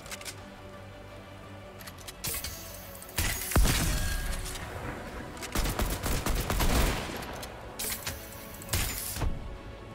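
Hunting rifle gunfire rings out in Fortnite, with several sharp, loud bursts separated by quieter stretches of game ambience, including one strong crack and clustered impacts later on.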